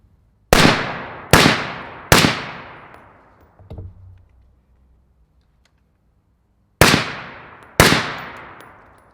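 LMT 10.5-inch rifle fired with an Ion 30 suppressor outdoors, five loud sharp shots with ringing decays: three in quick succession, a pause, then two more.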